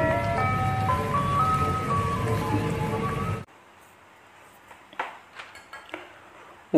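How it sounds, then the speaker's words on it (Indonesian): A toy ice cream truck plays its electronic jingle melody loudly and alone for about three and a half seconds, then stops, leaving near-silence with a few faint clicks. "Ini mobil es krim."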